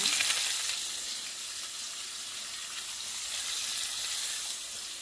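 Mustard seeds, curry leaves, garlic and onion fry in a pan with a loud, continuous, hissing sizzle that stays fairly even throughout, close up with no voices.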